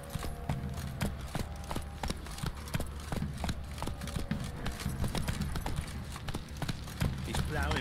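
Roach, the horse in The Witcher 3, gallops with rhythmic hoof clip-clops over a low rumble, close and steady. A voice and other voices are heard over it.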